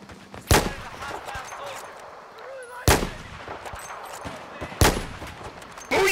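Gunfire from an LSAT machine gun on a beach in Battlefield 4, three sharp, loud bursts spaced a couple of seconds apart over a low hum of game ambience.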